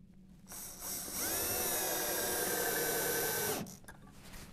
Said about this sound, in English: And put our screws in,